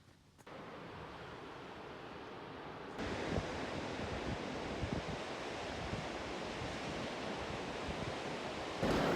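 Waves wash onto a beach at the Seven Hanging Valleys trail in the Algarve, Portugal, a steady broadband roar of surf with wind buffeting the microphone, growing louder partway through and continuing without pause.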